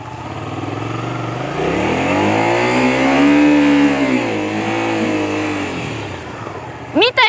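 A motorcycle engine idles and swells in a steady rev through a slow U-turn with the rider braking, the pitch rising and falling, then a short sharp burst at the end.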